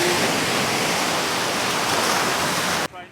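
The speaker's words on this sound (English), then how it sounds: "there is the ocean." Broadband wash of ocean surf at Playa Los Muertos beach in Puerto Vallarta, Mexico, loud and steady, cutting off abruptly near the end.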